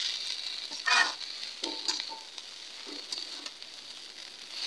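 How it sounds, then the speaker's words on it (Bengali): Koloi shak greens fry in a pan with a soft, continuous sizzle, and a few distinct stirring scrapes and clinks come at intervals, with no one speaking. "শাকটা 4-5 মিনিট ভাজবো।"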